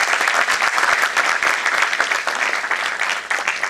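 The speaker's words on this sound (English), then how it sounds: "Please guys, give a round of applause" Audience applause at a brainstorming session, a thick, sustained patter of many hands clapping in a room, fairly loud and continuous, with no voices on top.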